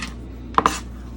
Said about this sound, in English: chopping up some yellow peppers